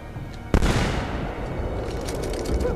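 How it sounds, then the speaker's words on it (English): A single sharp gunshot in Assassin's Creed 2, a loud crack followed by a long, dense rumbling tail that fills the rest of the moment with game ambience. "Yeah, I'm gonna shoot him."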